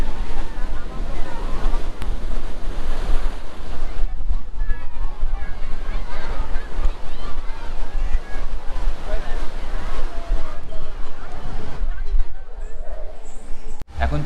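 Sea waves wash onto the beach at Digha in a continuous, close surf roar with wind buffeting the microphone throughout.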